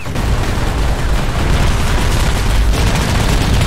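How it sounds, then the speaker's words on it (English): A rocket strikes a tower in Arma 3, producing a loud, sustained booming roar of explosion with crackling debris that fills the whole moment, heard close and alone without voices. "Someone hit it with a rocket."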